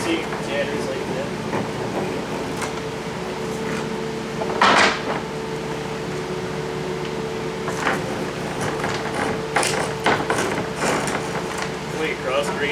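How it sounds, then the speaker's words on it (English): A hand scraper dragged along workpiece edges, making short rasping scrapes in irregular strokes over a steady mechanical hum, with a voice talking throughout. "So that looks like scrape the edges first, just to get it nice and rounded out"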